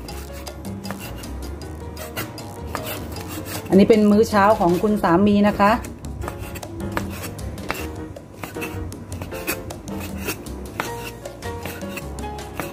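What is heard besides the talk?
chopping Betagro sausage with a knife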